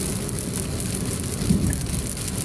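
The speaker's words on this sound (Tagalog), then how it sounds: "Sakto kasagsagan ng ulan kahapon mga idol." Steady heavy rain pours down in a continuous wash of noise, with a low rumbling undertone beneath it.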